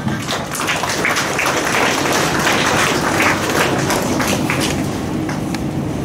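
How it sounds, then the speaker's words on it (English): An audience at a school students' awareness program inauguration gives a guest speaker a big round of applause, a dense, continuous clatter of many hands held at a steady level throughout. "Mr. A. Sivasimhash Manna with a huge round of applause."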